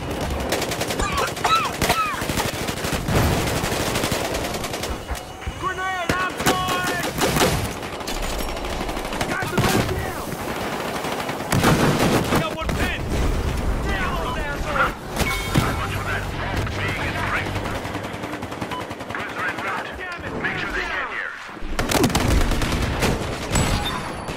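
Video game shootout with bursts of automatic gunfire and rapid shots throughout, loud and close, mixed with game effects and voices shouting over the action.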